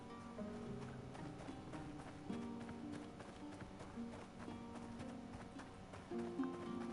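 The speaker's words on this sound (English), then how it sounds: "horse riding feels a little bit weird here though" Horse hooves galloping in the video game Tainted Grail, a steady rapid clip-clop under soft background music, fairly quiet and continuous throughout.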